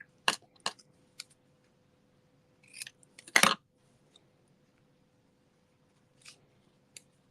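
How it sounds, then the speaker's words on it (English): Scissors cutting paper for a handmade card: a few crisp snips spread across a quiet background, with a brief cluster of cutting in the middle and faint clicks at the end. "So let's cut this off a bit here."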